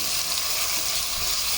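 Chopped tomato is stirred in a frying pan with cumin for a lentil-fritter gravy, making a continuous soft sizzle with light scraping underneath and no voices.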